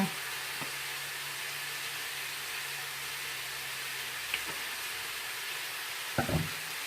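Olive oil heating in a pan for a homemade pizza gives a steady, soft, even sizzle, with a few light clicks and taps from utensils.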